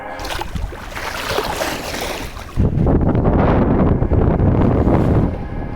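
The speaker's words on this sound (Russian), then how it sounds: "Тишина, плеск волн, полное ощущение полета над волнами." Water sloshes and splashes steadily against a moving sailing yacht's hull under sail, engine off, off Turkey's coast between Marmaris and Fethiye, with wind buffeting the microphone; the splashing grows louder and denser halfway through.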